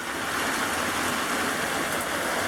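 Heavy rain pours steadily during a thunderstorm in Ardèche, a dense, loud, unbroken hiss of falling water close by, with no voices.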